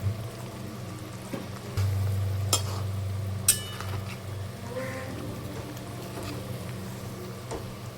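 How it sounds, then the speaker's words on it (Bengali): Previously fried eggs are slipped into a pan of simmering gravy seasoned with salt and a little sugar. A low bubbling sizzle runs throughout, with a thicker burst near the start and a couple of sharp clinks, and no voices. "এই মুহূর্তে আমি আগে থেকে ভেজে রাখা ডিমগুলোকে এর মধ্যে ছেড়ে দিলাম"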